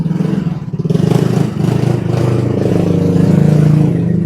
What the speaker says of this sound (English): there's a lot of motorbikes kind of zipping in and out everywhere